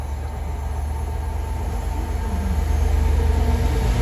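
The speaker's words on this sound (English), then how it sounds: "Passing through now is a Freightliner 66 going from New Bilton GBOF to Willesden Terminal GBOF." A Freightliner Class 66 diesel freight train rolls through Watford Junction on the West Coast Main Line, a steady low rumble with faint rail noise and no voices.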